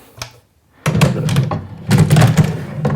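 Drawers slide and thunk into place in a Durston Pro-Lite workbench, with a light knock, then two bursts of scraping, sliding runner noise ending in soft bumps, close and fairly loud.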